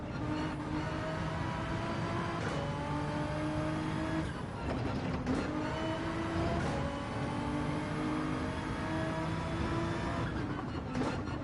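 A race car engine in Gran Turismo 7 during World Manufacturer Cup qualifying races loudly through repeated shifts, its revving pitch breaking and rising several times without speech.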